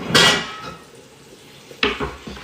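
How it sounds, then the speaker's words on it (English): A cutting board and knife taken out in a home kitchen, heard as a sharp clattering knock, a quiet pause, then a second cluster of hard clunks and taps nearby. "let me get a second cutting board out."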